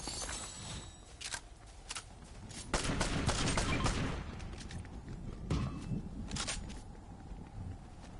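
Fortnite gunfire crackles in a busy exchange, with clustered shots and heavier bursts mid-way amid steady background noise and scattered footsteps.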